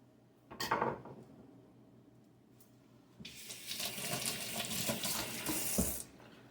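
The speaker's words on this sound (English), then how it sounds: "And then I'm just going to cover it with water." Water from a tap gushes into a cooking pot holding meat and garlic cloves, a brief clatter first, then a steady loud running stream for about three seconds that stops abruptly.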